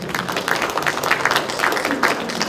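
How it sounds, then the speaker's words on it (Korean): An audience at an academic lecture gives a short burst of applause, a dense, continuous patter of many hands at moderate loudness with faint voices mixed in. "한번 박수 한번 주세요."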